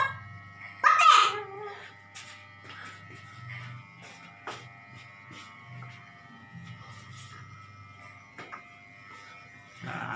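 An electric hair clipper buzzes steadily as it trims hair ends, with a louder burst early on and a voice and other talk heard faintly alongside.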